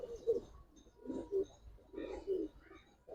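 A male Giribaz pigeon, an old breed, gives soft, low cooing calls in about four separate swelling phrases, close by in a quiet setting.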